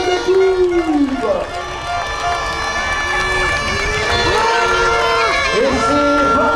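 A crowd at a women's cup final between Meurchin and Bordeaux keeps up loud, sustained cheering and shouting, with bursts of voices rising and falling over a constant roar.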